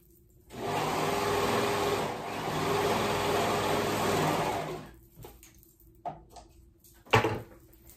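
A sewing machine runs steadily for about four and a half seconds as the side seams of a dress are stitched together, then stops, followed by a few faint handling clicks and one sharper knock.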